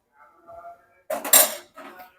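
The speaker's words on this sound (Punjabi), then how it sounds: "ਆਪਾਂ ਇਹ ਭਾਂਡੇ ਵਗੈਰਾ ਹਨ ਜਿਹੜੇ ਸਾਰੇ ਚੱਕ ਦਿੰਨੇ ਆ" Dishes, pots and utensils clatter and clink as they are picked up during a morning kitchen routine: a soft early rattle, then a louder burst of metallic clanking and a final brief jangle.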